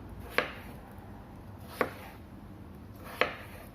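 A knife slices through potato onto a cutting board while french fries are prepared, three crisp separate chops spaced about a second and a half apart over quiet room tone.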